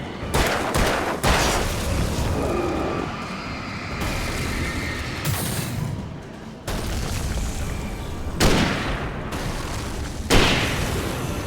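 Rifle gunfire in Alan Wake: a series of loud, sharp shots, some in quick pairs and others spaced apart, each cracking over a dark, echoing background.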